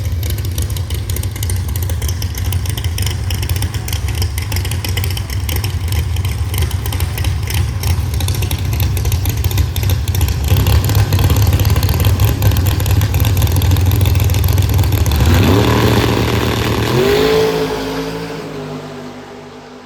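Outlaw drag race cars in the 4.70 and 4.50 classes at Beech Bend Raceway: a loud, sustained engine roar that swells and intensifies, then a rapid rising whine as a car accelerates away, the sound fading at the end.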